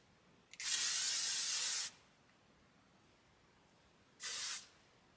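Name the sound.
spraying L'Oreal setting spray on face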